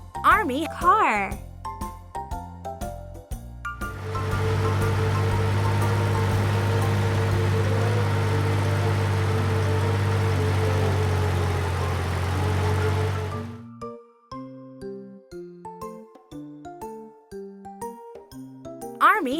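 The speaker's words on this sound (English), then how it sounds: "Army car." Toy army car engine running steadily for about ten seconds, a moderately loud sustained hum with a low droning tone, preceded and followed by light tinkling music.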